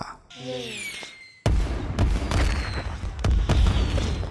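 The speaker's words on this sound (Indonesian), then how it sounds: "Anong dan Jo bersiap menyaksikan pesta kembang api yang terlihat indah dari teras rumah lantai dua." Fireworks bursting, seen from a house's second-floor terrace, in a dense, crackling series of booms after a brief tonal intro, loud and continuous with sharp repeated pops.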